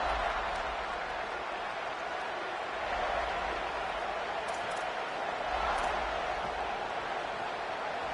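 A football stadium crowd roars in a sustained, swelling wall of cheering at the start of a drive, with a commentator talking over the noise.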